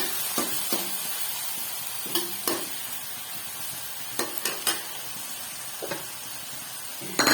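Ginger garlic paste sizzling and frying in a hot pan, with a steady hiss punctuated by several sharp stirring scrapes and clatters, close up.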